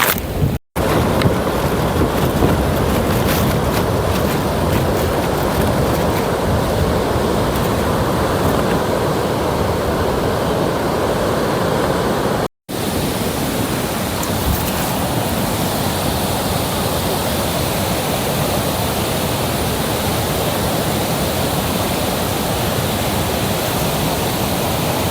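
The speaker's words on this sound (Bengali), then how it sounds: "এই ঝর্ণাটা দেখুন, এটি আপনাকে দেখতে গেলে আসতে হবে আদিয়ান পাড়া।" Adyanpara waterfall in a forest in Malappuram district, Kerala, gives a constant loud roar of falling water that fills the whole stretch evenly, with no voices.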